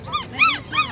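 A dog whimpers in three short, rising-and-falling whines, each a high nasal cry, close by over a low background rumble.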